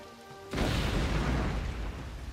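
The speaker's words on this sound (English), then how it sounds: "The sound of an explosion rocks the air and makes the ground tremble beneath your feet." A sudden deep explosion in the Outward video game hits after a quiet moment, then a loud, rumbling roar carries on and slowly fades.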